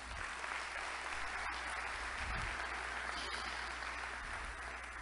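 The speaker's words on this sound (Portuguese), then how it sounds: "uma salva de palmas para a Uningá" An audience applauds at a lecture at Uningá, steady dense clapping from a crowd that holds evenly for the whole stretch at moderate volume.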